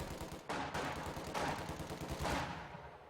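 Infantry gunfire in the strategy game Company of Heroes 2: bursts of rifle and machine-gun shots crackle in overlapping volleys, dense and continuous at moderate distance, with no speech.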